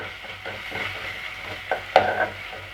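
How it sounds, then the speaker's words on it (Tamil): Ginger garlic paste sizzles gently in a pan on low heat while a spatula stirs and scrapes in soft repeated strokes, followed by a sharper clink against the metal. "இஞ்சி பூண்டு பேஸ்ட்டு நல்லா பச்சை வாடை போகிற வரைக்கும் வதக்கி விட்டுட்டே இருங்க"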